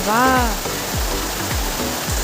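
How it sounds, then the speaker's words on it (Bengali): Heavy rain pours down as a steady, loud broadband wash, with dull low thumps recurring throughout and a brief tonal voice-like sound near the start. "বৃষ্টি জোরে নামছে"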